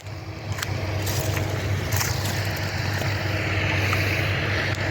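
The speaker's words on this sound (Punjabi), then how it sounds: "ਫਿਰ ਵੀ ਟਰੈਕਟਰ ਔਖਾ ਹੀ ਤੁਰਦਾ ਹੈ" Tractor engine labouring in a flood-damaged, waterlogged field, a steady low droning rumble that runs loud and unbroken throughout, with faint rattles and clunks on top.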